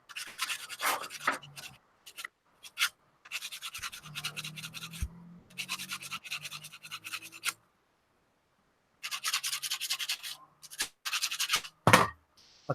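Bursts of scratchy sandpaper rubbing a burr off a 3D-printed orrery part, close and fairly loud, with several separate strokes and short pauses between them and no talking.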